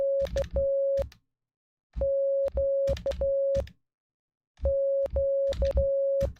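Morse code tones keyed by hand on a practice oscillator, steady beeps of mixed short and long lengths grouped into three bursts with silent gaps, each key press adding a faint click.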